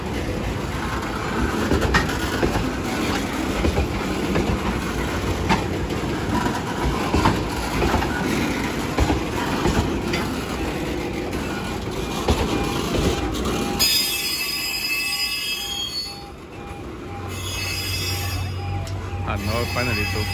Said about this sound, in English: I see the last train.